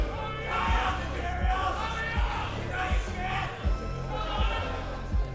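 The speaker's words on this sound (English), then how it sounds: "It's good to have a crowd enjoying some chants," Crowd chanting in an arena at a Counter-Strike esports event in Melbourne, rhythmic massed voices rising in repeated bursts with regular stamps or claps, fairly distant and roomy.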